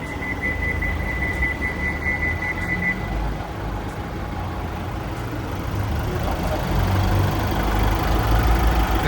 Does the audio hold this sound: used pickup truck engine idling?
yes